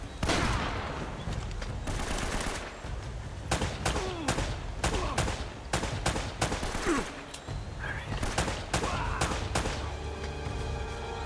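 Repeated loud shotgun blasts ring out in Uncharted: Drake's Fortune, spaced irregularly among other gunfire and impacts, close and sharp with no speech.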